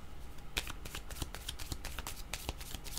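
Tarot cards shuffled by hand in a steady riffling flurry of quick papery flicks, close and continuous over low background hum, no voices.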